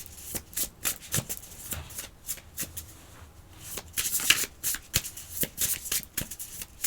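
A Blacklight Tarot deck is shuffled by hand, giving quick, close riffling and fluttering card slaps in uneven bursts, fairly quiet and with no talking.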